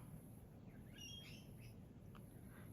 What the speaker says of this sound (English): Can you hear the birds out the backyard?